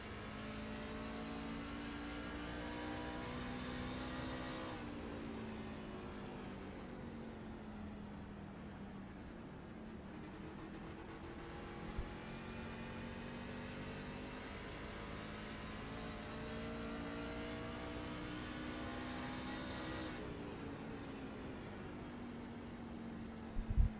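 Onboard race truck engine at Milwaukee Mile in a GLR Truck Series race, a loud, continuous droning roar close to the cockpit, pitch rising and falling through shifts and laps with no talk.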